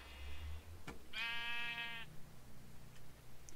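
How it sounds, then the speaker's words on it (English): A Minecraft sheep gives a single bleat of about one second, bright and buzzy, set between low game background sounds, with a short click just before it and no talking. "We did find a sheep."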